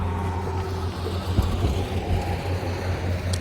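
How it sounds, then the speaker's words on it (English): Cars passing over a bridge on the Goderich peninsula in Sierra Leone give a steady low rumble and hum, with a brief heavier thump midway as a vehicle crosses. "the sound when these cars are passing through the bridge"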